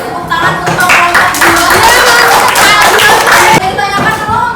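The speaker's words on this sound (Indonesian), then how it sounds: "tepuk tangan untuk kelompok" Students in an elementary school classroom applaud a group with a loud burst of many hands clapping together that holds for about four seconds before tapering off.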